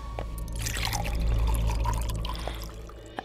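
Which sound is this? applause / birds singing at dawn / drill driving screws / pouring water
pouring water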